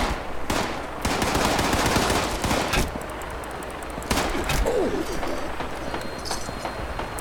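Dense gunfire in Fallout 76 during a chaotic online fight, rapid machine-gun bursts and single shots crackling loudly and continuously over busy background game noise.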